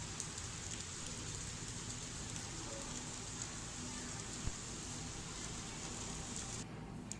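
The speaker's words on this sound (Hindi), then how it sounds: "तो ये देखिए अभी भी धीरे धीरे बारिश हो रही है शाम में।" Light evening rain in Bangalore, a faint, even hiss of drops falling steadily with no voices.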